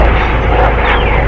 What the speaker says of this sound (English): And we got a plane.